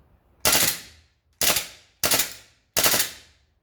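An airsoft gun fires at a range, giving four sharp, separate cracks spaced about half a second to a second apart, each fading quickly against near silence.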